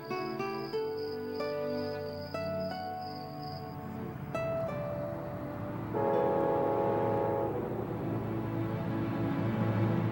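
Passenger train rolling along rails through the lower Hudson Valley, a steady loud rumble with tonal hums and whines rising after a few seconds, heard alone without talk.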